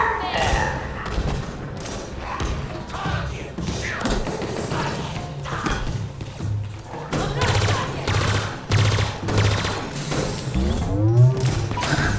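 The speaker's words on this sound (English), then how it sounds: "He's shooting me everywhere" Enemy gunfire in Halo Infinite on Legendary difficulty: repeated bursts of shots and heavy thuds come at an uneven rhythm amid mechanical clatter and other game effects, loud and close throughout.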